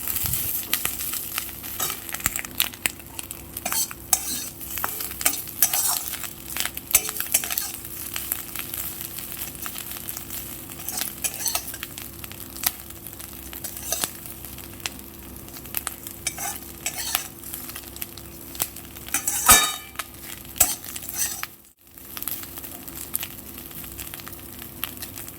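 Fish scales frying in a pan give a continuous close sizzle, broken by frequent scraping and stirring strokes and a brief clatter near the end, with no voices.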